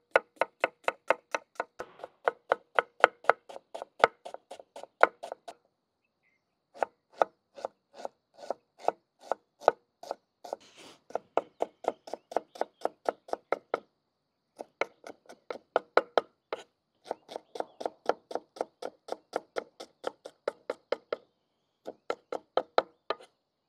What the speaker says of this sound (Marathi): आपण आता भाजीसाठी कांदे बारीक चिरून घेऊ।